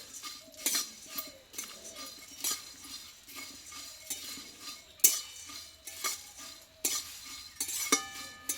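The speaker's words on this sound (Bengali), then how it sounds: "এবার এই খইটা আমি এইভাবে নাড়াচাড়া করে গরম করে নেবো একটু" Puffed rice (khoi) is stirred and heated in a dry wok, giving a steady run of scraping, rustling strokes with a few light metallic clinks of the spoon. The sound is close and moderately quiet, with no voices.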